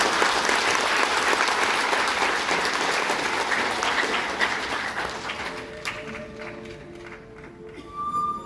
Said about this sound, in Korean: 여러분 첫 순서이니만큼 더 큰 박수로 격려해 주시기 바랍니다.